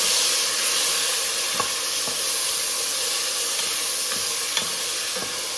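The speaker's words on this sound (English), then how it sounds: "we're gonna let our tomato steam so it can melt" Tomatoes sizzle and hiss steadily as they steam in a hot pan, with a few soft scrapes and pops breaking through the constant frying noise.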